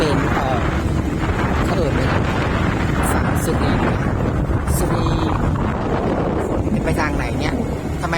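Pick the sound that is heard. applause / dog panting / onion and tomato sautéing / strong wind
strong wind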